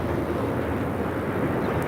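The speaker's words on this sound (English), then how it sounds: "This is Delta Airlines 615 taking off to Cancun on a" A Delta Airlines Boeing 737-900ER takes off at LAX, heard as a steady, moderately loud wash of distant jet engine roar with no clear change in pitch.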